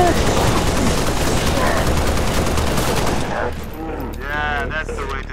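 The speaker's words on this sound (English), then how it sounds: "I'm under fire!" Gunfire in the Halo Reach campaign: loud sustained automatic fire through most of the moment, easing off near the end, where a voice and game effects take over.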